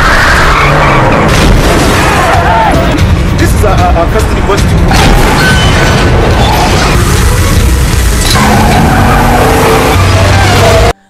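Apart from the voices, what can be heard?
cars skidding in a chase, from a film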